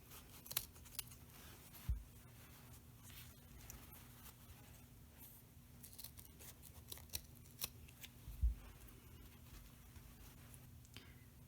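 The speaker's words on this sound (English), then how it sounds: "you can trim off both ends of the zipper in line with the raw edge" Scissors snip off both ends of a zipper on a quilted zipper pouch, in line with the raw fabric edge; two sharp cuts stand out clearly over a quiet background.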